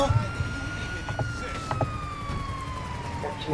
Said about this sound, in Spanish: ¿Ustedes escuchan la sirena de la ambulancia?